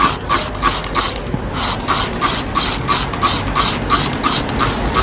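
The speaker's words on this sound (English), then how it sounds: "so I'm gonna mist." Repeated short hissing bursts from a spray bottle misting water onto the soil of a balcony garden plant, about a dozen quick squirts in a steady rhythm, close and fairly loud.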